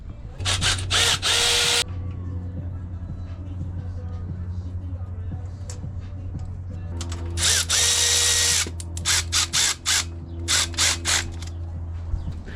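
A power tool drives a 14mm ground bolt on the back of a B18C cylinder head in short whirring bursts, spread over a low steady hum.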